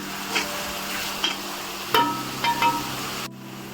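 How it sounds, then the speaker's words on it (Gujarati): Finely chopped onion sautéing in a pan for Punjabi-style palak paneer, a soft steady sizzle broken by a few stirring knocks and scrapes. The sound stops abruptly near the end, and no one speaks. "ડુંગળી ગોલ્ડન બ્રાઉન ન થઈ જાય ત્યાં સુધી એને સાતળી લઈશ"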